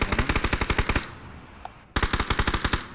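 Automatic weapon fire in the battle royale game PUBG on the Sanhok map, two loud rapid bursts of close shots separated by a brief lull with a faint echo.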